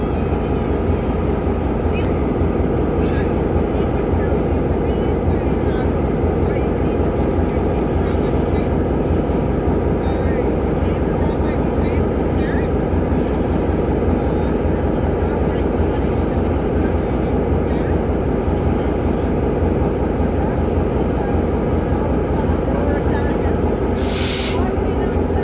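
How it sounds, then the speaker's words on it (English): Diesel locomotives 42103, in 1980s State Rail Authority of New South Wales livery, and 4204 idling at Richmond station before departure, a loud, steady rumbling throb with a brief hiss of air near the end. "we have 42103, the Jumpster in the 1980s State Rail Authority of New South Wales livery, and 4204 Grandma about to depart Richmond"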